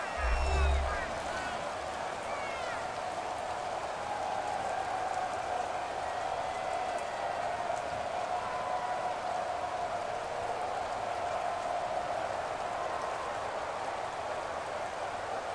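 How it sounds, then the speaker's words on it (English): Steady driving rain hisses through a televised football video game, a continuous broadband wash at moderate level with a faint tonal hum running through and a brief low thump at the very start. "Footing obviously an issue in the driving rain."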